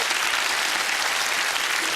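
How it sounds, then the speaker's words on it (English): TV studio audience applause on a 1997 game show, loud, dense, continuous clapping from a full crowd filling the brief moment. "Give them a big round of applause."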